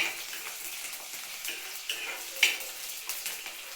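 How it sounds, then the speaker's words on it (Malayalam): Garlic and ginger dropped into hot oil with mustard seeds, a bright steady sizzle with small crackling pops and one sharper burst partway through, close and continuous with no voices. "ഇത് വെളുത്തുള്ളി ഇഞ്ചി ഇട്ട് കൊടുക്കാം"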